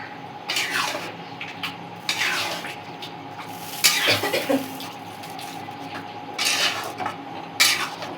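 Chicken sizzles while being stir-fried (kosha) in a pan for chicken chap, with steady frying hiss and repeated scraping, clattering stirs of a utensil against the metal at irregular intervals, close up and with no talking.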